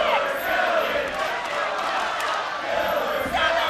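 A wrestling arena crowd in Columbus roars steadily through a TNA dog collar match, a dense, loud wash of shouting and cheering with a few sharper swells and no break in the noise.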